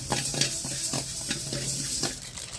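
Mustard seeds and fenugreek crackle and pop in hot oil with sharp spluttering bursts, alongside a steady sizzle and occasional scraping of a utensil in the pan.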